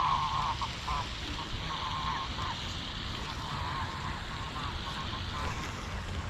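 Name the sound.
geese honking at a pond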